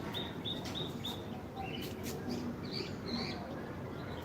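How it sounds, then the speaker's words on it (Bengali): Faint bird chirps repeat over a steady outdoor background, with a few short calls scattered through. "পাখির আওয়াজ হয়তো আপনারা শুনতে পাচ্ছেন"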